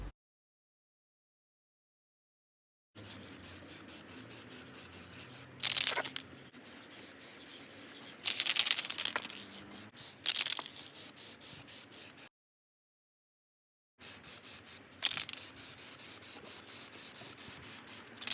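Short bursts of aerosol spray paint hissing onto a Ford Fiesta ST180 fog light surround and lower grill, several separate close sprays with rustling and handling noise between, broken by stretches of silence.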